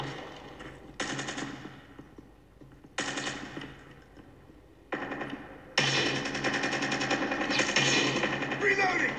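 Video game gunfire while shooting an enemy, bursts of rapid automatic fire in three short volleys and then one sustained stream, loud and close, with a voice speaking between them.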